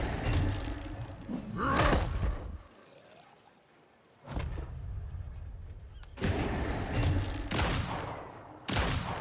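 Video game gunfire from pistols and a rifle, with bursts of heavy, rumbling shots that come in loud clusters separated by brief lulls, dense and booming rather than crisp.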